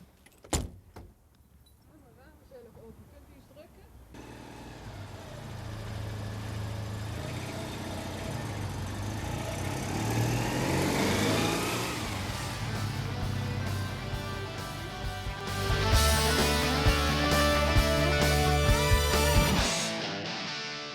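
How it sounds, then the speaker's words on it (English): A shiny new Citroen 2CV's air-cooled engine whines and putters as the car drives off. It starts quiet, builds into a steady, fairly loud drone from about four seconds and swells further near the end. "The unique whining and putting that comes from the air-cooled engine as the shiny new car drives off."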